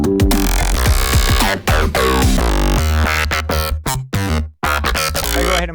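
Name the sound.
wonky glitchy synth bass sound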